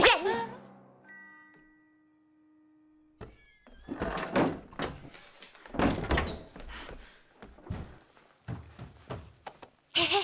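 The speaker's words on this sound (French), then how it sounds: "Attention, plus un bruit, j'ouvre la porte." A door creaks and clunks as it is opened in a fantasy comedy film scene, followed by a dog barking and excited voices talking over one another.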